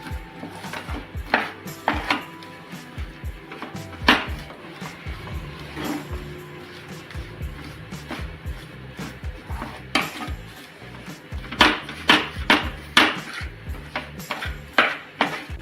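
Makhana (fox nuts) are stirred in a metal pan with a spoon, giving irregular scraping and sharp clanks against the pan, some louder bursts of rapid knocks, close up and without talk.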